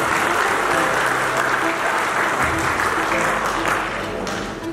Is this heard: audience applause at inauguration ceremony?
yes